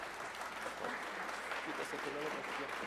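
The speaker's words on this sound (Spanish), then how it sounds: "les voy a pedir un aplauso para la doctora Leticia Narváez Macías" Audience applause for a doctor being welcomed at a dental and oncology talk, a steady wash of clapping from a seated crowd lasting a few seconds, moderately loud with faint voices underneath.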